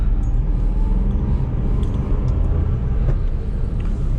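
Cabin drone of a small car's 800cc petrol engine while driving, a steady low rumble with road noise filling the whole stretch, fairly loud and constant with no talking.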